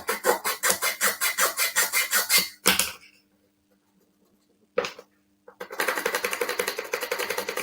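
A small metal part for a Titanic scale model gets a burr filed off, with quick rhythmic rasping strokes up close, a pause with a couple of knocks, then the rasping resumes.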